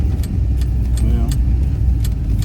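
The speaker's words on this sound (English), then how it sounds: "all the front end sheet metal is like rattling around" Loose front-end sheet metal rattles and clatters in quick irregular bursts over the loud low road rumble inside a driving Pontiac GTO.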